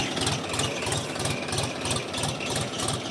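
A DTZ 354U tractor engine runs while digging potatoes in rear-wheel drive only, a steady, heavy low chugging with a regular pulsing rhythm, loud and close with no talk.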